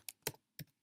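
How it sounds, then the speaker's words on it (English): Three quick, crisp keystrokes clack on a computer keyboard as a short password is entered, close and fairly quiet with no voices. "I'm going to type the password 123."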